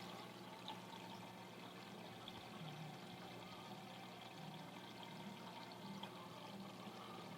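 A pump refilling a fish tank in a home fish room, with water pouring and trickling in a steady, continuous low wash, faint and unbroken, and no voices.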